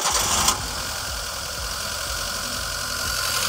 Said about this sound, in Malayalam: ഇപ്പോൾ വണ്ടി സ്റ്റാർട്ട് ആയിട്ടില്ലേ